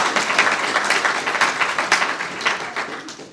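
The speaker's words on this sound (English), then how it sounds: "So let's give them another round of applause" An audience claps in sustained applause, a dense patter of many hands that fades slightly at the end, with no speech over it.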